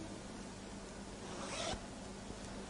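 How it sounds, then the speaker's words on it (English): An invisible zipper on a flared skirt is zipped up in one short, close rasp lasting about a quarter second, set against steady room hum with no talking. "Now, what I'll do now will be to zip it up completely."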